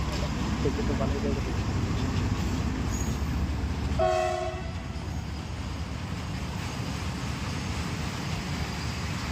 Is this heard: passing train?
yes